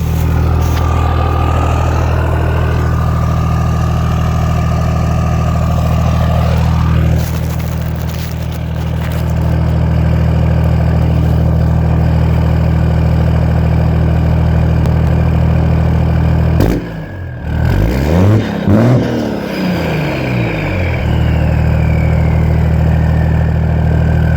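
A loud, straight-piped 6.7 Cummins diesel engine with an S467 turbo, swapped into a second-generation truck, idles with a deep, steady rumble throughout, a brief surge of revving partway through, then settles back to idle.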